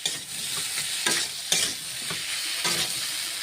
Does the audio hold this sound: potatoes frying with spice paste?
yes